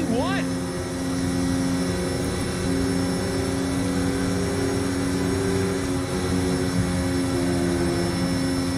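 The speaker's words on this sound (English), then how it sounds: "that is the last inbound cargo flight racing neck and neck with an AMG 1" Cargo plane in Forza Horizon 5 droning past with a steady, loud propeller hum, layered under continuous engine tones and an occasional brief rising whine near the start.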